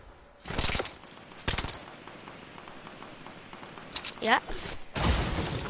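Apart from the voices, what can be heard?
gunfire in Fortnite, a video game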